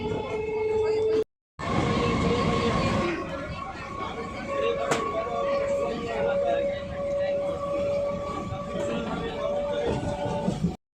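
Inside a moving train, a steady loud rumble of wheels on rails fills the space, with a horn-like tone sounding through and people chattering nearby; a brief dropout near the start.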